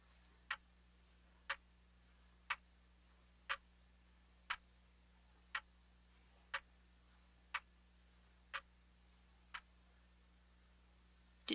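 A wall clock in The Sandman video game ticks steadily, about one sharp tick per second for a dozen beats, faint and alone over a low steady hum.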